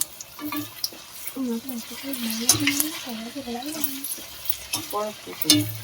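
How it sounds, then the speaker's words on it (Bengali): Palm fruit fritters (taler bora) fry in hot oil with a steady sizzle while being flipped, and a voice talks over the frying throughout. "তালের বড়াগুলো ওই পিঠ হয়ে গেছে, এবার উল্টে দেবো।"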